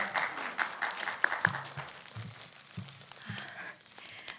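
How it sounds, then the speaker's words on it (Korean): Applause from the audience at a film award ceremony for a Best New Actress winner, a steady patter of clapping that thins slightly midway, with low thuds and a few crinkling noises mixed in. "네, 다시 한번 큰 박수 부탁드립니다."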